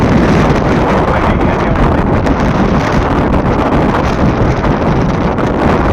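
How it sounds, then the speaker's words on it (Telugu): Strong wind roars and buffets the microphone continuously at a Kanyakumari viewpoint, a loud, steady rushing blast with no voices. "గాలి విపరీతంగా పడటం వల్ల"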